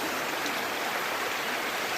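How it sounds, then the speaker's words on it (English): A river rushes through the Alaska wilderness in a steady, full broadband roar of flowing water, close and continuous with no voices. "The sound of that river is awesome."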